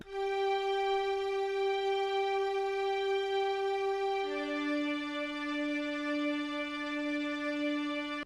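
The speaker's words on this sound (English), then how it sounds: "So this is what the string preset is going to sound like." A synth string preset in FL Studio sustains one smooth held chord, then shifts to a second chord about halfway, bright layered tones with no voices.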